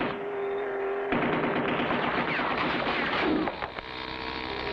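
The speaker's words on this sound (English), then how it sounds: "they're firing on us from the gun turret" Rapid cartoon machine-gun fire from a gun turret in an animated action scene, a dense sustained rattle of shots over a steady mains hum, preceded and followed by quieter droning.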